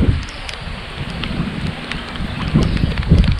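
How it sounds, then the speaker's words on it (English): Steady heavy rain pours down on the Altamaha River with a constant dense hiss, drops pattering nearby throughout, with no voices. "rain's brutal"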